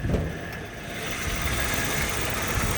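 Engine of a 2003 Toyota Kijang LGX idling, a steady low rumble with light mechanical clatter, heard close and fairly quiet with no talk.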